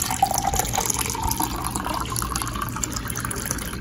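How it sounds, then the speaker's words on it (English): Cold brew Thai tea poured over ice in a glass: a steady, close liquid stream splashing and trickling, fairly loud and continuous, with no talking. "let me pour over the cold brew that I made"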